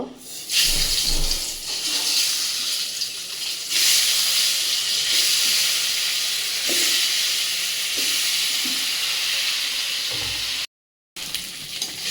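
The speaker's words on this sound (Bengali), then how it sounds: "আমি এবার ডিমগুলো ভেজে নেব।" Eggs frying in a pan of hot oil in a home kitchen, a steady close hiss and sizzle with small crackles and stirring scrapes that runs throughout, broken by one brief silent gap near the end.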